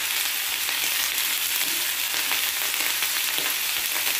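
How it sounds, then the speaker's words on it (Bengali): Potatoes and spring onions fry in a hot pan with salt, turmeric and slit green chillies, producing a loud, continuous sizzling hiss with faint stirring scrapes underneath. "খুব ভালোভাবে নেড়ে চেড়ে আমি মিশিয়ে দেবো আলু পেঁয়াজ কলির মধ্যে নুন আর হলুদটা"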